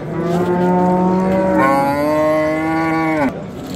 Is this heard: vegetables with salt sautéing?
no